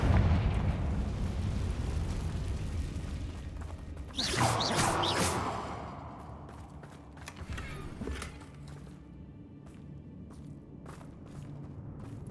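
A Confringo blasting spell bursts in Hogwarts Legacy, a loud fiery explosion erupting around the four-second mark, then crackling debris and rumbling that fade into scattered clatter and creaks.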